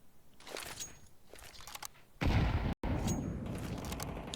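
A grenade goes off in Counter-Strike during a competitive match: a sudden loud, broadband blast cuts in midway over faint gunfire and footsteps, briefly drops out, then leaves a dense roar.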